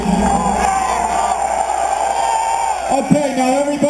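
A crowd at an Albany gun rally cheers for the veterans, a loud, sustained roar of voices with whoops and shouts that keeps going for the whole stretch and lifts briefly near the end.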